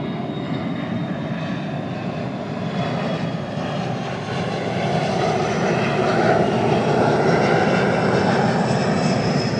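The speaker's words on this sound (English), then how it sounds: "Lots of planes." A continuous low roar of aircraft engines passes overhead, swelling slightly louder toward the end, with no talking.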